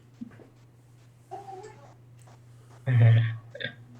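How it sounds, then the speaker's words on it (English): A person lets out a single short, loud burp amid a quiet room with a steady low hum, preceded by faint murmured voices and small incidental sounds. "You're burping here?"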